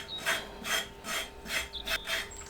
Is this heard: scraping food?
yes